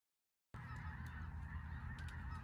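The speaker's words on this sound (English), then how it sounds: "Okay, y'all can hear those birds." Geese honking steadily over a constant low rumble, several calls overlapping at moderate distance after a silent opening.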